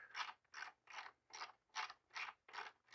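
A ratchet wrench backs out 5/16 screws from the top cover of a Cub Cadet RZT L 54-inch zero-turn mower, giving seven evenly spaced bursts of close, crisp clicking with no talk.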